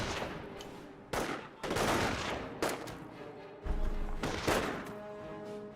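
Rifle squad gunfire from Company of Heroes, heard as several bursts of shots at uneven intervals over a steady battle din, with a faint voice now and then.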